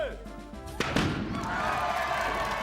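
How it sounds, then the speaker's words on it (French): A game show prop explodes with a sudden thud-like burst near the middle, followed by a lingering hiss and rumble, with voices talking around it. "Oh là là, il a explosé celui-là."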